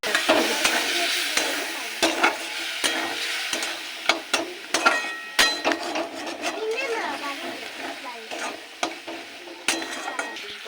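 Spices with cumin and chilli powder being sautéed in oil with fish heads for moong dal, a steady sizzle under repeated rhythmic scrapes and taps of a spatula stirring the pan, close and moderately loud.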